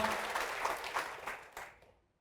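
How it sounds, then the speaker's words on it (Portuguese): Church congregation applauds at a fairly low level, a soft patter of many hands that gradually thins out and fades to silence after about two seconds. "Vamos aplaudir ao Senhor, vamos aplaudir mais então."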